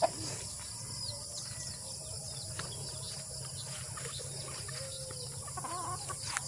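Chickens cluck faintly at a distance over a steady chorus of insects, with no voices, on a farm near rice fields in Bicol.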